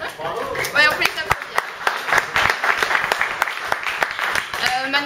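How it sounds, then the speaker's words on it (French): Audience applause at a Paris Human Talks evening on UX and design, a burst of dense clapping with sharp individual claps standing out and voices chatting over it. "on peut les applaudir"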